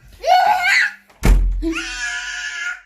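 A door is tried and thumped without opening: one heavy, close thud lands between raised, strained vocal sounds from people nearby.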